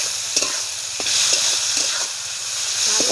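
Ginger paste being stirred through hot oil, with a steady hissing sizzle and soft scraping strokes from the spoon in the pan, no voices.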